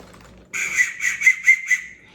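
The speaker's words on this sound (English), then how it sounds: "You get a safety whistle that has like its own little pouch." A safety whistle is blown softly in a quick series of short, shrill toots, close by in a quiet room.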